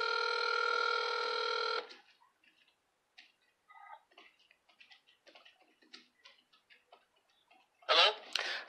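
On an outgoing telephone call, a loud steady dial tone sounds first, then sparse soft clicks and beeps of dialing follow, and a sharp ring burst near the end.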